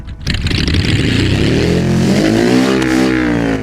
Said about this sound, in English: let's hear what it sounds without exhaust